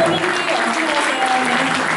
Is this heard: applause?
yes